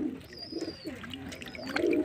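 A male pigeon held in the hand gives soft, low coos close by, with a faint watery trickle in the background and no talking.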